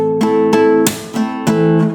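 Spanish rumba strumming on a guitar: bright nylon-string chords struck in a quick rhythmic pattern, several sharp strokes and brushed flourishes ringing close and clear, alone without talk.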